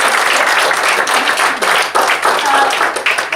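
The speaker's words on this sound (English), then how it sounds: "I think a round of applause to our two" An audience at a public participation conference applauding two speakers, a loud, sustained round of clapping from a crowd with scattered voices mixed in.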